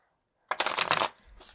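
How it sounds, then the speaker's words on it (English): A deck of playing cards is shuffled in one quick riffle of about half a second, crisp and close, with a faint shuffle after it, during a card reading. "I'm going to go ahead and shuffle this up again"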